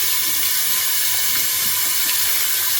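Tap water runs in a steady, close hiss while freshly picked mangoes from a farm are washed at a sink, continuous and without talk.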